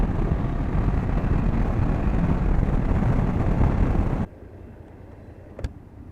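BMW F800GS motorcycle pulling onto a freeway, a loud, dense engine roar mixed with wind rush that drops suddenly to a quieter rumble partway through, with a brief knock near the end and no talk.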